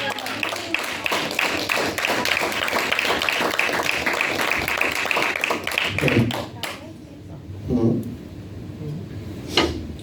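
A church service congregation claps for the Lord in a brisk, dense burst of applause that fades after about six seconds, leaving scattered voices and a few final claps.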